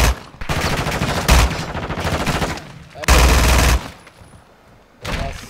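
Machine-gun bursts in the Warzone 2 shooter game, loud and close, come in several rattling volleys separated by short gaps, with a heavier burst in the middle and a final volley near the end.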